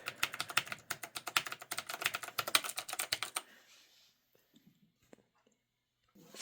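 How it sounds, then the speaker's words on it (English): Fast, rhythmic typing on a mechanical computer keyboard from 2012, dense loud key clicks for about three seconds, then stopping and leaving a few faint scattered taps. "Mechanical keyboard."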